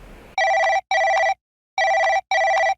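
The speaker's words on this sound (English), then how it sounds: "And Vic Morris calls me on the phone." A telephone bell rings loudly in four bursts as two pairs of double rings with a pause between the pairs, alone in an otherwise quiet office.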